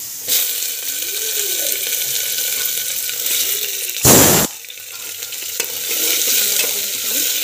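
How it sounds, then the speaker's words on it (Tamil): Chana dal frying in oil with mustard seeds, cumin and garlic, with a loud continuous sizzle and crackle close by, broken midway by a brief burst of clattering or splashing. "கடலைப்பருப்பு ஆட் பண்ணி நல்லா வதங்கட்டும்"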